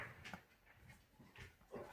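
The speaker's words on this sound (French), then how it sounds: "c'est mon chien qui tousse" A female dog coughing in short, harsh bursts indoors, a few hacking spasms spaced across a couple of seconds, fairly faint and close.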